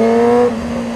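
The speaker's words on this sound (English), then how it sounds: "Loud exhaust, save my life." A car with a loud exhaust drives off, a steady engine drone close by that drops slightly in level halfway through the second.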